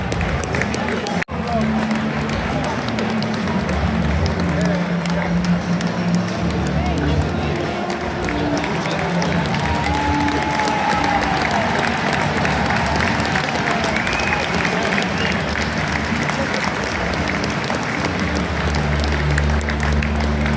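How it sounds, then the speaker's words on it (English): Football stadium crowd applauding as substitutes come on, a broad sustained wash of clapping from a large crowd heard from within the stands, with chatter mixed in and one sharp knock near the start. "you can hear the applause there"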